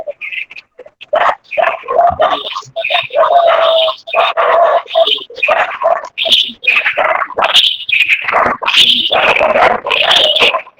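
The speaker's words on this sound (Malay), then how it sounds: "Dengan suara anjing." Several dogs at a house next door bark, yelp and whimper in a loud, continuous, overlapping chorus near a retirement gathering, with the high cries rising and falling throughout.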